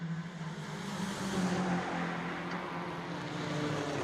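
A BMW touring car racing in the Baltic Touring Car Championship at the DeWALT Grand Prix is heard as a steady, distant engine drone that swells slightly as it passes, with no one talking.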